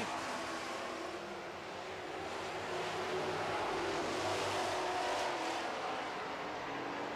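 Super trucks racing on an oval track at night, a steady loud roar of several engines droning together for the whole stretch, with a slight swell midway as the pack passes, no talking.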